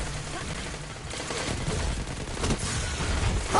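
Video game gunfire in Destiny 2 keeps up as a steady, crackling volley of shots at moderate level, with a busy game soundscape around it.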